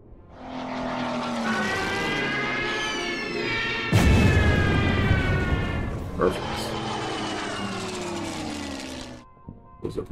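A Stuka dive bomber attack in a Winter War video game at Tali-Ihantala: a droning aircraft engine with rising and falling whine, a heavy explosion midway, then more engine drone fading out.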